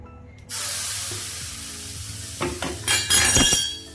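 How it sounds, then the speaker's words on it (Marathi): A jackfruit thalipeeth goes onto a hot oiled pan and bursts into a loud, hissing sizzle that holds steady, with clinks and scraping near the end, close and without talk. "याला मी असं तेल लावते आणि हे थालीपीठ घालते"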